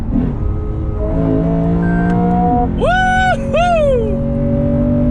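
A 2020 Lexus GS F with its 471-horsepower naturally aspirated engine revs hard, climbing through two sharp rising sweeps over a steady idle drone, loud and close with a faint voice underneath.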